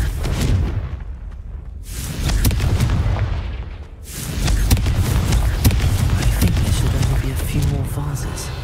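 Fiery Confringo spell blasts go off repeatedly in Hogwarts Legacy, producing a dense run of sharp cracks and booming bursts with a brief lull in the middle, while voices speak amid the fighting.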